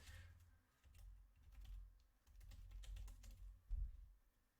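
Typing on a computer keyboard with quick, irregular key clicks in short bursts, close and fairly quiet, with no speech.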